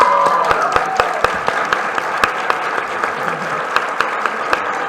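A seated audience at a book presentation applauds, a steady close patter of many hands for several seconds with sharp individual claps standing out, with little talk over it.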